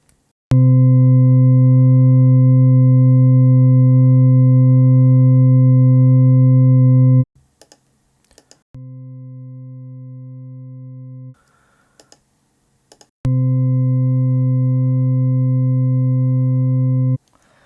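Steady test tones sent through passive and active DI boxes: three sustained sine-like signals in turn, the second noticeably quieter, separated by brief pauses with faint clicks.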